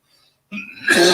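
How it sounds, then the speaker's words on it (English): One sharp, explosive cough bursts out of near silence, close and loud, trailing into a rough breathy tail. "That's a cough. That's not a sneeze."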